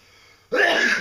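A single loud, close sneeze bursts out suddenly after near silence and trails off.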